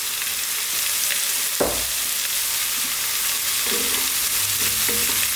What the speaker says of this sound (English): We're stirring pretty much all the time with this dish.